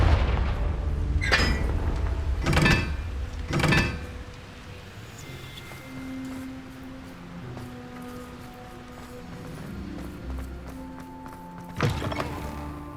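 Confringo spell blasts in Hogwarts Legacy go off as three loud, booming bursts in quick succession, followed by quieter magical whooshes and one more heavy blast near the end.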